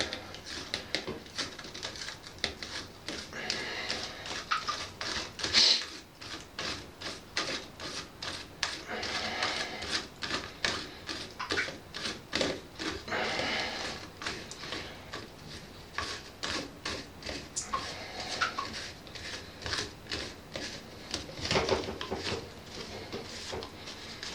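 A sink drain bolt is screwed back on by hand, producing a steady run of close, rapid scraping and clicking ticks from the threads and fingers. A voice speaks over it.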